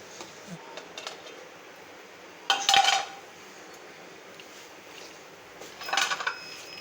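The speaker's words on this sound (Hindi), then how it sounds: "अच्छे तरीके से चॉप करके इनको हम अच्छे तरीके से मिक्स कर लेते हैं।" Chopped green chillies being mixed into minced-meat qeema for tikki, heard as two short bursts of utensil-and-bowl clatter separated by quiet gaps, with no talk.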